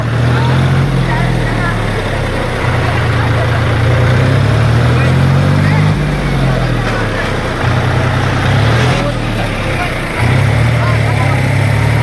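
A tractor engine runs close and loud in a village, its low throbbing drone steady for the whole stretch with slight swells in pitch.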